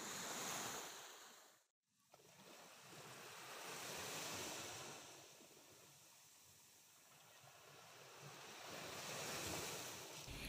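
Ocean waves on a beach where fishing boats sit moored at the water's edge, soft surf swelling and receding in slow cycles with gusty wind noise, briefly dropping out near the start.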